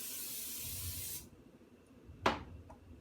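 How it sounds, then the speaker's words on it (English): Cooking spray is sprayed onto a baking sheet in a kitchen as one steady, close hiss lasting about a second, followed after a pause by a short sharp knock. "I'm also going to go ahead and spray my baking sheet with some cooking spray."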